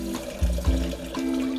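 Two cups of water poured into a pot holding a cup of rice for kimchi fried rice, a steady close splashing pour with a couple of heavier gurgles.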